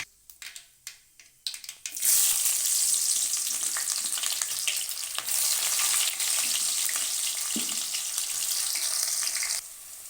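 Onions go into hot oil after mustard seeds have popped: faint crackling and taps give way to a sudden loud, close sizzle that holds steady, with scraping stirs, until it eases near the end.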